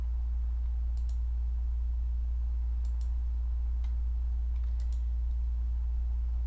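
Computer mouse clicks while stepping through courses in a schedule planner, several faint, sharp clicks spaced irregularly, some in quick pairs, over a steady low hum.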